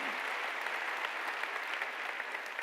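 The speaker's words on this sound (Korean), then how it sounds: "박수로 하나님께 영광을 돌려야 된다" Steady applause from a large church congregation during a sermon, continuous clapping filling the whole stretch with no pauses and no voices.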